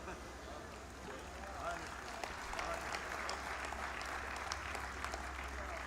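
Sustained audience applause from a crowd at the 12th Aalami Urdu Conference, a dense, steady wash of clapping lasting several seconds at moderate level, alone without speech.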